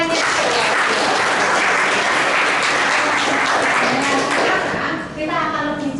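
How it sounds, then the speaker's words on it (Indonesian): Students applaud their class leader during a classroom lesson on short stories, dense steady clapping filling the room at close range, with voices mixed in toward the end. "tepuk tangan dong untuk ketuanya"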